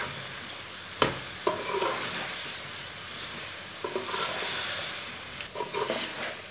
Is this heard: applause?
no